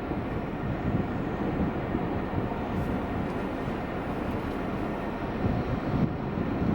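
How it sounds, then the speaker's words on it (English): A steady, broad low rumble like a plane passing overhead during a tornado, constant and fairly loud with some wind buffeting, no talking. "It sounds like a plane."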